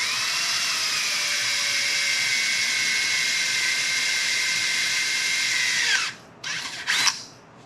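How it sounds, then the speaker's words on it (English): A power drill with an 11/32 bit spins at high speed for about six seconds, loud and close with a steady whine, then stops and gives two short bursts. "11/32 drill bit for that. Set this in here. It'll make it a little bit easier to drill."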